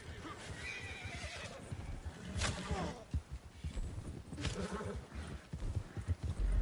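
Horse in Red Dead Redemption 2 Online gives a loud whinny followed by steady clip-clop of hooves, close and continuous over a low game soundscape.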